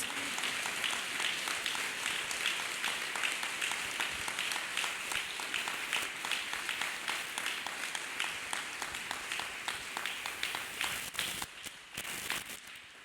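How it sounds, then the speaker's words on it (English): A church congregation claps hands together in a steady, continuous wash of applause that carries on for several seconds before fading and breaking up near the end. "Let's clap hands for Master Jesus, people of God."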